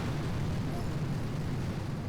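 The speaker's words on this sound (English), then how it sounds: "I'm just going to go ahead and drop a couple of, or more than a couple of barrages." Artillery barrage explosions from a Boom Beach mobile strategy game, a dense continuous low rumble of overlapping blasts with no distinct gaps, steady and loud throughout.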